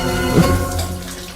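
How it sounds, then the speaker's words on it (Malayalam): A running shower hisses steadily in an empty bathroom, its spray loud and continuous over a low humming tone that fades slightly toward the end. "എന്നാലും ഷവർ ആരും ഓണാക്കിയിട്ട് ഇവിടെ ആരും കാണുന്നില്ല"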